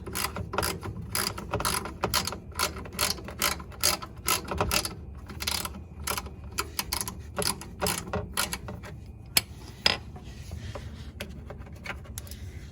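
Close ratchet clicking in rapid, uneven bursts while bolts are undone on a 2005 Mercedes C230 Kompressor W203 during a rear shock job, thinning out toward the end.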